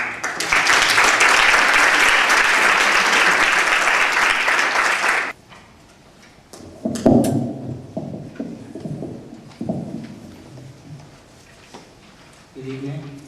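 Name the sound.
audience applause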